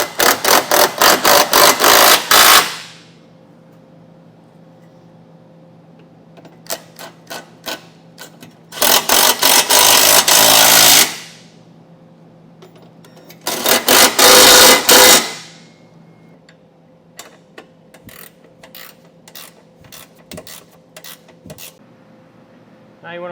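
A tool driving hitch bolts with a 17 mm socket on a 2023 Audi A5, three loud sustained whirring bursts of a few seconds each, separated by quieter gaps with light clicks and handling noise.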